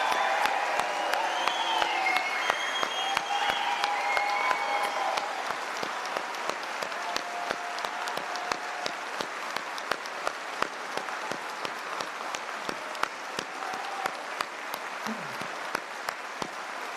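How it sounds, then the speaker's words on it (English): Sustained applause for graduates at a convocation ceremony, a large crowd clapping steadily throughout with a few whoops and voices early, gradually thinning. "join me with a massive round of applause congratulating our graduates of"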